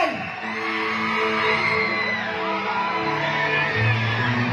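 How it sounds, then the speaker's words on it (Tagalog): Crowd at a live event shouting together, a swelling mass of overlapping voices and whoops with held calls, loud and sustained throughout. "sigaw natin lahat yan."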